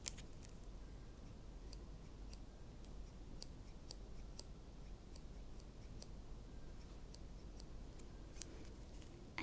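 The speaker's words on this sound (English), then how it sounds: "and then this pair of scissors" A small pair of scissors from a ballet bag is handled quietly, giving faint, crisp, irregular clicks and ticks spread across a hushed room, with no talking.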